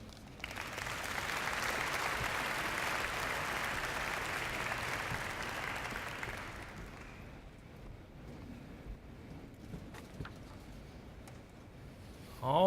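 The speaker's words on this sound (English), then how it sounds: "give another big round of applause for all of our award winners tonight" An audience applauds award winners at a Southeast Kentucky Chamber of Commerce awards ceremony, a sustained roomful of clapping lasting about six seconds before fading into quiet room noise.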